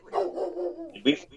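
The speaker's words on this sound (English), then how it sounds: "But sorry about my dog." A dog barks twice in quick succession, close and fairly loud, the first bark drawn out into a short yowl and the second sharp and clipped.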